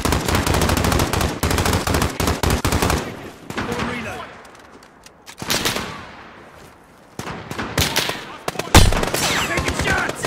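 Automatic gunfire rattles loud and close in the Call of Duty: Modern Warfare game, with dense rapid bursts over the first few seconds, a quieter lull, then renewed heavy shooting near the end.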